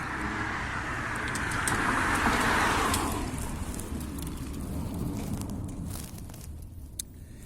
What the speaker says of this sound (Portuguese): Agora tenho a passar por mim a carrinha que veio trazer o pão ao hotel.